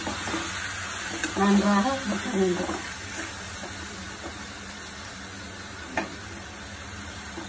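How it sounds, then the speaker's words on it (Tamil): Tomatoes and a green chili sauté in a pan with a soft, steady sizzle and occasional stirring scrapes, close by under a woman's brief Tamil speech. "1 பச்சை மிளகாய் 2 அரைச்சி போட்டு தக்காளி வதக்க வேண்டும்"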